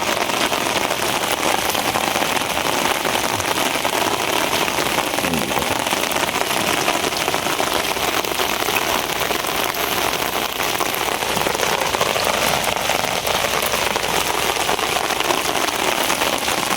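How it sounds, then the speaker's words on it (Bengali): Heavy rain pours steadily during a storm near a fishing net, a dense, continuous hiss of drops on surfaces that stays loud and unbroken throughout with no one speaking. "আর কি পরিমাণ বৃষ্টি হইতেছে তো আপনারা দেখেন"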